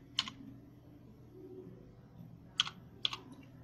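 A computer keyboard is typed on while entering a captcha code: three sharp, isolated key clicks, one near the start and two close together near the end, up close over a quiet hum.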